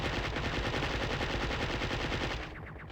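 Rapid automatic bursts from a chain gun in the Duke Nukem 64 video game, loud and continuous rattling fire that cuts off sharply near the end.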